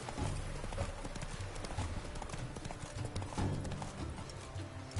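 Hooves pound in a fast, steady gallop as a horse runs in The Witcher 3: Wild Hunt, loud and close over a dense, continuous game soundscape.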